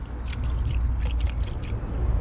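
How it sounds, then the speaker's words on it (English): Demon Shine car shampoo poured straight from the bottle into a bucket of water, a steady continuous splashing pour with a low rumbling wash underneath that lasts throughout. "I can't be asked to measure it, so I'm just going to pour some straight in"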